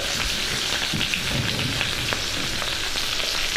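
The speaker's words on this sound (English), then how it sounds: "So that's going to saute down, it's going to wilt down the lettuce in there" Lettuce and mushrooms sauté in a hot pan with a steady, close sizzle and crackle throughout, unbroken and without voices.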